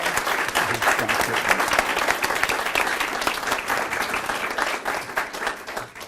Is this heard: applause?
yes